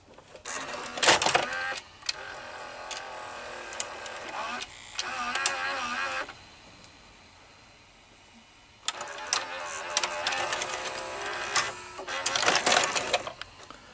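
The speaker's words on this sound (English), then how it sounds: "Now let's insert the tape." Whirring motor and mechanical clicks come close up in two stretches, with a quieter lull between, as a Sanyo VHR-H600 VCR draws in and threads a VHS tape.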